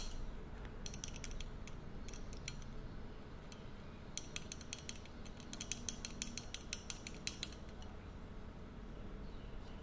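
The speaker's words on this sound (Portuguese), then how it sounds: "O barulho é nesta peça que vem para prender o celular ou GPS" Rattling vibration from the phone/GPS mount on a Bajaj Dominar 400 motorcycle dashboard, heard as faint clusters of rapid, light metallic rattles and ticks over a steady low engine hum, with no talk.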